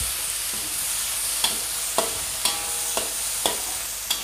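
Tomato and chili sizzling in a pan, a steady frying hiss with a spatula tapping and stirring at a regular pace, close and without speech.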